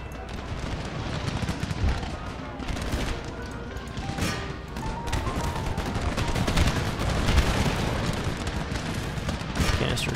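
Dense, continuous battle noise from the Empire: Total War video game: cannons firing canister shot amid rolling volleys of gunfire and booms that never let up.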